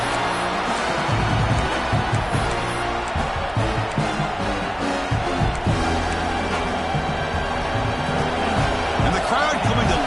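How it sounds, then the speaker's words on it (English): Stadium crowd roaring steadily in the red zone during a College Football 26 game, Oregon at Michigan, a loud continuous wash of cheering and noise with a play-by-play voice talking over it. "Crowd coming to life here, trying to help this defense down in the red zone."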